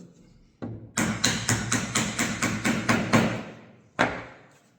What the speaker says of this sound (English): You may have to tap it in slightly.